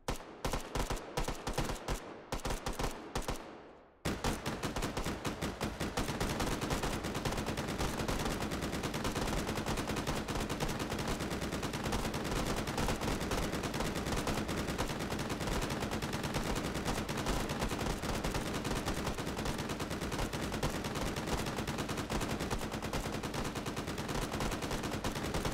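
Gunfire in the VR game Hot Dogs, Horseshoes & Hand Grenades: a few separate shots, then a brief gap and a dense, unbroken burst of automatic fire that runs loud and continuous to the end.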